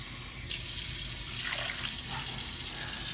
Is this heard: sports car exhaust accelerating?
no